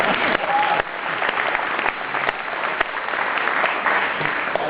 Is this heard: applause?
yes